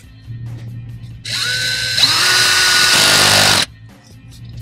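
A regular power drill is used during repair work on a Lexus IS300 transmission shift solenoid. The motor whines up abruptly, shifts to a higher, steadier pitch partway through, then cuts off after a couple of seconds, close and loud over a quiet background hum.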